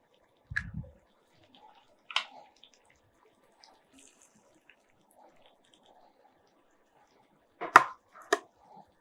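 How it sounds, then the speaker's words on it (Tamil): Eggs cracked open for a Tamil-style mutton egg curry, heard as a few sharp kitchen knocks and cracks: one near the start, another around two seconds, then a closer pair near the end, with quiet gaps between. "அதே மாதிரி நம்ம வச்சுருக்கிற இன்னொரு முட்டையும் உடைச்சிடலாம்."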